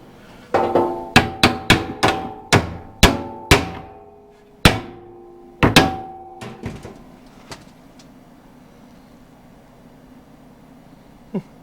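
A string of sharp metallic hammer strikes rings out during a camper hauler storage deck build, quick irregular blows with bright ringing decay, then fewer hits and a last faint tap after a pause.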